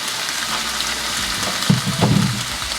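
A large piece of pork leg sizzles in hot oil in a pan while pata tim is being cooked, a continuous close hiss with a few louder crackles as the meat settles.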